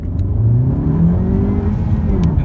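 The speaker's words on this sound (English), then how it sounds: "We're at 0, so we're going to floor the car." A 2019 Honda Civic with a 1.5-litre VTEC turbo engine and six-speed gearbox is floored from a standstill, giving a loud, close engine drone that climbs steadily in pitch as it accelerates through the first gear.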